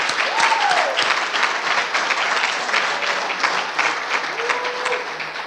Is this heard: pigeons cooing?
no